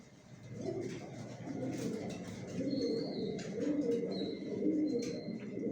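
Pigeons coo in a bedding loft, soft repeated throaty calls overlapping one another close by, with a few faint higher chirps and thin background noise.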